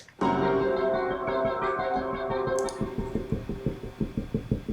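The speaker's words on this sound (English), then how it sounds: "There's something he does on a bass where he's playing right on the bridge, and it's just kind of like a non-pitched kind of knocking, which is what this sound is here." Non-pitched knocking played directly on the bridge of a bass, starting as a sustained ringing chord-like mass that gives way after about three seconds to a steady run of close, rhythmic knocks like a heartbeat, with no voices.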